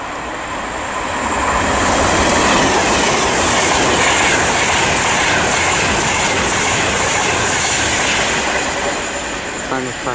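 A train on the West Coast Main Line, running from London Euston to Birmingham New Street, passes through Watford Junction. A loud, steady rumble of wheels and carriages with rhythmic clatter goes on for several seconds, and no voices are heard.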